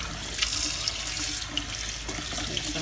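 Tap water runs steadily into a sink as freshly picked beautyberries are rinsed under it, a continuous close hiss and splash with small irregular surges and no talking.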